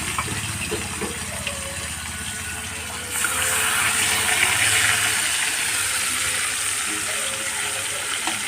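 Fish is added to a hot frying pan, and a steady low sizzle suddenly swells into a louder, broad hissing fry that continues evenly.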